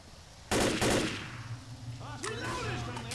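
Gunfire in Left 4 Dead starts as two loud, close blasts, then gives way to a ringing, chirping game noise and a steady hum. Brief voice sounds are mixed in.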